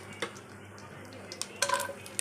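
Dry fruits such as raisins and cardamom roasting in two spoons of ghee in a pan, heard as quiet sizzling under sharp clinks and scrapes of a spoon against the pan, close and intermittent.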